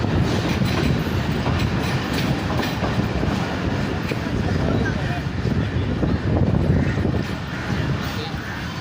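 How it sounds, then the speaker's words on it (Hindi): The Millat Express pulls out of Landi Junction station, its rumble steady and loud throughout with a rhythmic wheel clatter and a buffeting of wind noise. "एटीन डाउन मिलत एक्सप्रेस रवाना हो रही है लांडी जंक्शन रेलवे स्टेशन से।"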